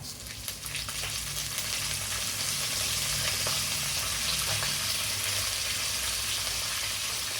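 Steady loud sizzling of chana dal, urad dal, peanuts and curry leaves frying in hot oil in a pan, continuous and close, with faint stirring scrapes.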